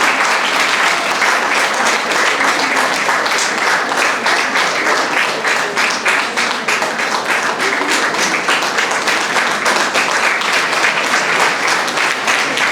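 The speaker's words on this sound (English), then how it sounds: "Big round of applause for her, please." Steady, loud audience applause at a teacher awards ceremony after a management commendation award, dense clapping holding evenly for the whole stretch with no talk over it.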